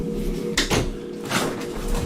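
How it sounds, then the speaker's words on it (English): A door swings shut by itself, giving a couple of soft knocks and thuds over a steady low hum in a quiet room, with no one speaking. "The door slams on its own."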